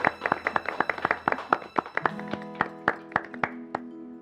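A small group claps by hand, a quick run of sharp, close, slightly uneven claps with a few short gaps, and a low tone holds underneath toward the end.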